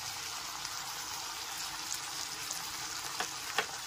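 Dark soy sauce mixture and a splash of water hit a hot pan of egg pepper masala, raising a steady close sizzle with a few brief splashy pops near the end.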